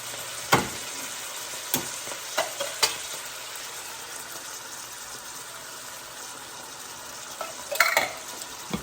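Corn and tomatoes in their juice are stirred in a pan over a soft, steady sizzle. A spoon scrapes and knocks against the metal now and then, with a busier stretch of scraping near the end and no voices.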